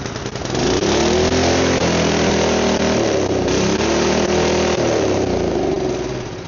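A small choked and primed engine, likely a snowblower motor, catches and runs at a steady, rough, buzzing idle, close and loud, holding speed with a slight wobble throughout.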